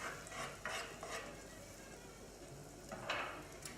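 Rehydrated mushrooms sauté in a pan with quiet sizzling and intermittent stirring scrapes and clinks, faint and close, with no talking.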